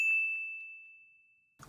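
A bright bell ding rings out once and sustains in a long fading tone, followed by a brief burst of other sound at the very end.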